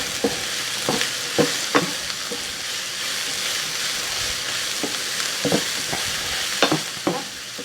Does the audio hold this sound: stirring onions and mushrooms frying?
yes